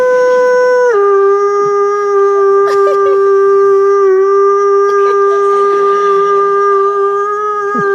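A man imitates a wolf howl with his voice, holding one long, loud sustained tone that drops slightly in pitch early on, then wavers, with faint studio room noise underneath.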